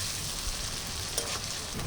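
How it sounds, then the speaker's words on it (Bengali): Paneer fries in hot oil until browned, giving a dense, continuous sizzle at close range with one faint click partway through. "একদম লাল লাল করে পনিরগুলো ভেজে নেবো ভালো করে"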